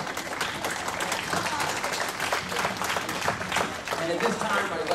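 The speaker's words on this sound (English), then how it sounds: "how about a round of applause for our toast right now?" Guests at a wedding reception applaud a toast, a steady wash of clapping from a crowd lasting throughout, with voices and cheers mixed in.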